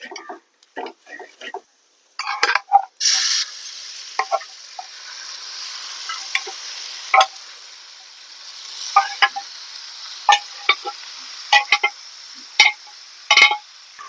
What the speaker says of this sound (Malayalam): നമുക്ക് ഇളക്കി കൊടുക്കാം